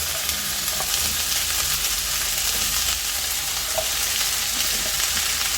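Chicken, onion and bell peppers fry in a pan for a chicken sandwich filling, giving a steady, even sizzle that carries throughout without a break, close and moderately loud, with occasional faint stirring clicks.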